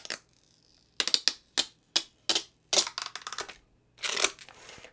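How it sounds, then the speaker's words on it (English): Protective plastic film being peeled off a Spigen Ultra Hybrid phone case for an iPhone 13: a series of sharp crackling rips in short bursts, close up, with a longer crinkling peel near the end and no talking. "This is the plastic puller, the puller thing, so it's easier to peel off."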